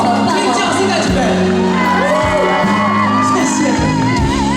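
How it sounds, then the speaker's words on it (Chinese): A crowd at an outdoor evening temple festival gala in Yancheng, Tainan shouts, whoops and cheers loudly and continuously, with raised voices mixed through the noise. "老师一个尖叫声加掌声"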